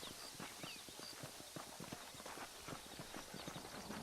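Horse hooves clip-clop in a steady walking rhythm throughout, close and fairly loud, from a horse in the Western video game Red Dead Redemption, over a constant ambient background.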